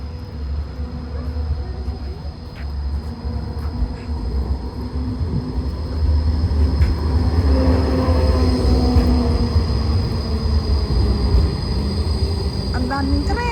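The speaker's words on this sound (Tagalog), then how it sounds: "Ang daming train. Every second, every minute may train." Trains passing near the Marktplatz in Basel, Switzerland on a Sunday: a steady low rumble of rail cars with faint wheel squeal, swelling as it rolls closer, while people talk nearby.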